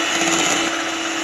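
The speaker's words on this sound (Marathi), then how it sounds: "हे आणखीन थोडा वेळ फेटून घेते मी।" A steady, loud whirring drone of an electric beater whipping a gulkand ice cream mixture, continuous and unbroken throughout with no talking.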